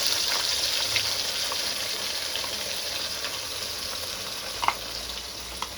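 Paneer gravy sautéing in a pan gives a steady, close frying hiss with light stirring scrapes and a couple of brief clinks, no voices.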